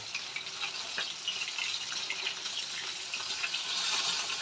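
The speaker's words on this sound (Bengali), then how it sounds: "বাকি মাছগুলো আমি এরকম লাল করে ভেজে নেব" Pieces of katla fish fry in hot oil, giving a continuous bright crackling sizzle with small pops, fairly loud and steady with no voices.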